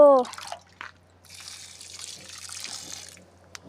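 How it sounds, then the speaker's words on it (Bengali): Water pours from a container onto flower plants, a soft hissing splash lasting about two seconds after a brief burst of voice, faint and close, with a few small knocks around it. "জল নিয়ে নিয়েছি ফুল গাছে দেব"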